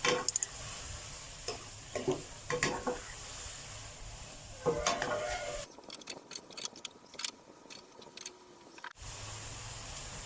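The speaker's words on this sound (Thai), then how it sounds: "จะใส่เห็ดหอมสดลงไปผัด ผัดให้สุกนี่ครับ" Shiitake mushrooms sizzle in a pan while a spatula scrapes and tosses them, with clacking strokes and a steady fry underneath.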